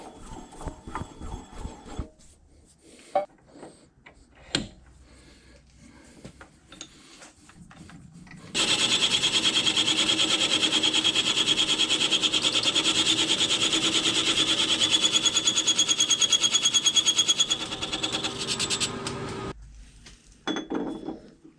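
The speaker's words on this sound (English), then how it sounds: "I'll need to turn this back around and machine out at least one turn of those threads" A metal lathe machines threads off the backplate for a 10-inch South Bend 4-jaw chuck, giving a sustained, even scraping cut for about ten seconds between quieter clanks and handling noises.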